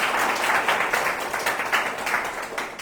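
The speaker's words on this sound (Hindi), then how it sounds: "आप इनका फिर से तालियों से स्वागत कर सकते हैं।" Congregation at a Sunday evening prayer service applauding a guest, a steady round of many hands clapping with faint rhythmic pulses, continuous and close.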